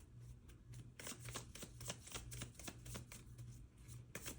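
Tarot cards shuffled for a reading, a run of quick crisp riffling bursts repeating close up over a steady low hum, with no voices.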